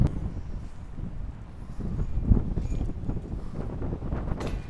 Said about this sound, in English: Ah, this wind, dude.